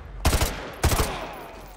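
Call of Duty Modern Warfare 2 gunfire, two loud close bursts of rapid shots about half a second apart, each trailing off into a ringing echo.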